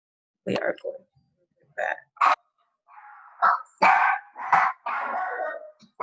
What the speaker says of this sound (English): Yes, that is my dog, guys, because the door is ringing